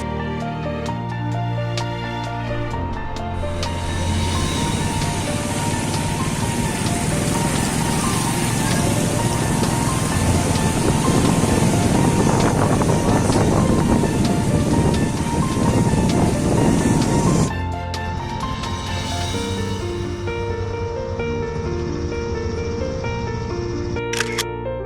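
Floodwater pours steadily through Sandik dam in West Lombok in the aftermath of flooding, a loud, dense, continuous roar that swells in the middle and then drops away abruptly near the end.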